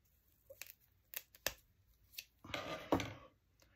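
Scissors cutting a small piece of lace for a wax-seal craft project, a few sharp snips and clicks spaced apart, then a longer rustling crunch of the fabric, close and fairly quiet.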